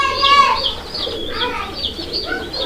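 Domestic fancy pigeons at a bird market coo and chirp close by, a few overlapping soft calls rising and falling over about three seconds, with a faint voice nearby.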